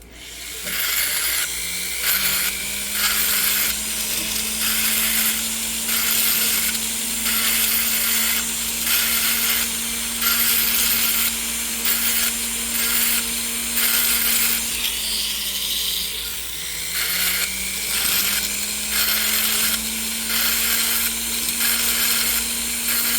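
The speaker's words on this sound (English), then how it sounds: "we're definitely going to have to do some filing on the sides there for darn sure" A hand file rasps steadily along the sides and inside of a metal ring, its broadband scraping strokes continuous and close, with a faint steady hum running underneath.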